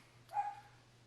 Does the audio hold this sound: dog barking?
yes